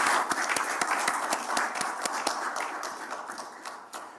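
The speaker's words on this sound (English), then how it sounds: "Another round of applause to Mr. President." An audience at a student reception held by the President of Ghana gives a round of applause, sparse, uneven clapping that fades gradually over a few seconds.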